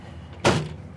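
The door of a 1963 Ford Galaxie 500 Fastback shuts once with a single solid thud, close by, in an otherwise quiet space.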